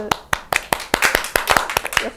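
A producer claps his hands during a Hanwha Eagles vs Samsung Lions baseball watch-along, about a dozen sharp, close claps in an irregular quick rhythm, with a voice talking over them.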